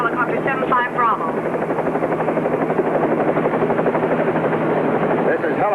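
A helicopter flies close by with a loud, steady rotor drone, its rapid chopping pulse constant throughout, while a voice briefly talks over it at the start.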